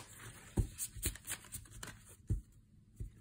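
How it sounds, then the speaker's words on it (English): A stiff new tarot card deck is shuffled by hand, giving close, irregular riffling snaps and papery flutters in short bursts across the clip. "This is not the most comfortable deck to shuffle"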